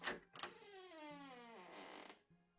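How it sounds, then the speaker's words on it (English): A door creaks open in the story game The Life and Suffering of Sir Brante: one long, close, drawn-out creak that bends up and down in pitch, with no talking. "You open the door and freeze"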